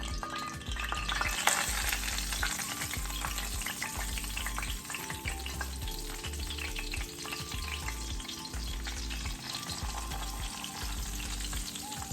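Flounder fillets dredged in cornmeal and flour fry in hot oil with a steady, dense sizzle and crackle that stays even and moderately loud throughout, with a low background hum and no voices.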